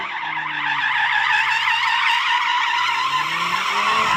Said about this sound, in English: this is me drifting an RS3